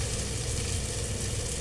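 Vada dough balls sizzle steadily in hot oil, a dense continuous crackle close by with no pauses and no voices.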